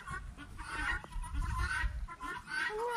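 Rhode Island Red chickens on a backyard homestead farm cluck in short, repeated bursts at close range over a low rumbling background, with no talking.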